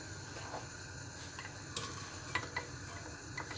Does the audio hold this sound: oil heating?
yes